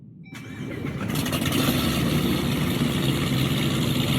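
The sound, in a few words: Hennessy car engine starting up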